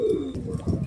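A female Madrasi or Andhra pigeon, shown for sale in Howrah, makes a short, low, throaty coo close by, a brief rolling call with no speech.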